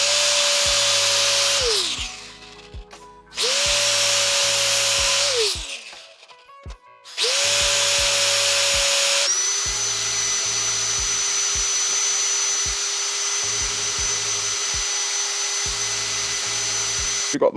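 A power drill spins a motorcycle fork part as a makeshift lathe, loud whirring bursts that start and stop several times, then one long steady run with a faint wobble.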